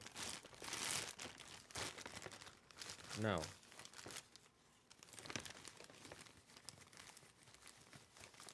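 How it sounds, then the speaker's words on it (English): Crinkling plastic bag being rummaged through, the crackle steady and close for most of the stretch, with a person's voice briefly heard partway through. "Here was a plastic bag."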